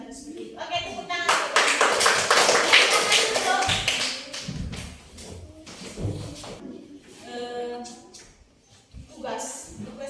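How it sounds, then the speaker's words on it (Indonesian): A classroom of people claps hands in a loud burst of rapid, overlapping claps, then a second, shorter round, with voices talking between the rounds. "Oke, tepuk tangan."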